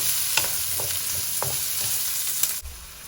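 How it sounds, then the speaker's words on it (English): Chopped onions fry in a soup pot, giving an even, close sizzle with occasional spoon taps and stirs before the sound cuts off sharply near the end. "Then go in the chopped up onions."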